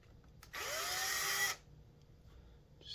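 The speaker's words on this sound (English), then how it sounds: "Or you can start the drilling process right there and then." A power drill bites briefly into a bass guitar body in a luthier's workshop, one loud whirring burst of about a second that rises in pitch and then cuts off, in an otherwise quiet room.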